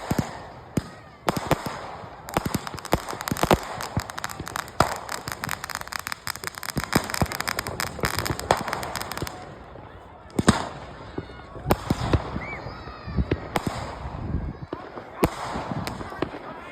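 Fireworks on bonfire night crack and bang in irregular bursts, some close and sharp and others farther off, with people talking over the noise outdoors.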